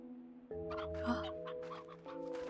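A chicken clucks in a spooky glass desert area of a game, giving a short run of close, repeated clucks over a steady droning musical hum, with no speech.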